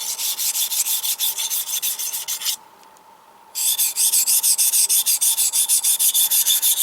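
A well-worn Henckels chef's knife is ground on a sharpening stone in rhythmic back-and-forth scraping strokes, close and loud. A brief pause breaks the run before the strokes resume.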